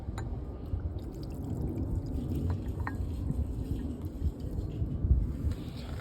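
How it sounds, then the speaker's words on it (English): Very hot water poured from a cup onto a stuck part of a $1000 used car, giving a steady, fairly close splashing wash with low rumbling underneath and no voices. "All right, cup of super hot water."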